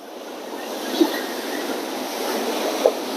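Sea waves wash and splash against the shore at Colombo as a steady broadband roar, broken by two sharper splash bursts about two seconds apart.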